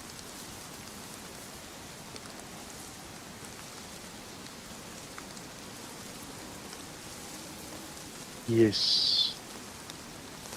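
Steady rain in DayZ, a soft, even patter and hiss throughout, with a brief voice breaking in near the end.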